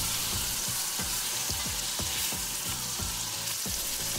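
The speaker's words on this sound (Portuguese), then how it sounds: "Quando a manteiga derreter completamente, coloca as bananas e deixa até começar a dourar." Bananas fry in melted butter in a pan, giving a close, steady crackling sizzle with rapid popping spatters throughout and no voices.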